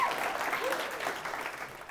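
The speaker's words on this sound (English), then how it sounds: "everyone give Fritz another good round of applause" Brief, steady applause from a group of people, moderately loud and continuous throughout.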